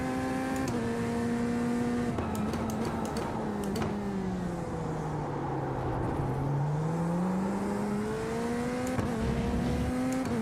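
Race cars at a dirt-track American Showdown event circle on the final lap, engines droning steadily and pitch rising and falling as they pass through turns, a continuous loud roar with no talk.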